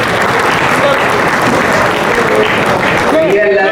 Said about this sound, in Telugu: మీ గట్టి చప్పట్లతో అందరికి ఒకసారి థ్యాంక్స్